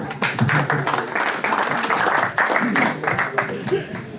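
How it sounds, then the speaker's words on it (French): Applause from a football federation gathering greets the district football president in a hall at a club merger anniversary, a steady crowd clapping that fills the whole stretch with voices mixed in. "Si tu veux bien venir nous rejoindre, mon cher Michel, sur les applaudissements de la Fédération."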